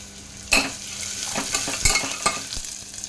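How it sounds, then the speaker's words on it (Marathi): Onion fries in oil inside a pressure cooker for Maharashtrian masale bhat, with a continuous sizzle and sharp spoon clinks and scrapes from stirring against the metal pot. "कांदा छान असा ट्रान्सल्युसंट म्हणजे हलका गुलाबी रंग येईपर्यंत आपल्याला परतून घ्यायचा आहे"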